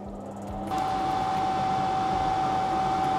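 A fan switches on and blows air through the filter of a homemade laminar flow hood, rising quickly into a steady, close, whooshing rush with a faint tonal hum.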